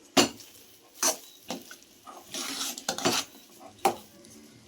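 Spoon scraping and clanking against a pan while pineapple rava kesari with tutti frutti is stirred, several sharp metallic knocks at irregular intervals with softer scraping between, close and fairly quiet.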